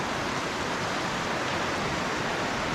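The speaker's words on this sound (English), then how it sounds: "because it's absolutely pouring down out there" Heavy rain pours down outside a large farm equipment shed, a dense continuous roar heard from under cover, steady and loud for the whole stretch with no voices.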